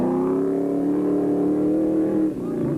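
A deep, rumbling 5.9-litre Mopar V8 in a Jeep-based van during an off-road race revs steadily with a growling, harmonic tone, loud and close, easing slightly near the end.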